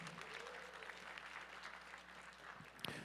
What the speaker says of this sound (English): One more round of applause for Angela